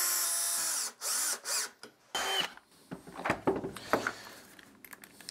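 A power drill drives 3-inch deck screws into a cedar patio table, with several close, high whirring bursts separated by short pauses, then rattling and knocking of the wood.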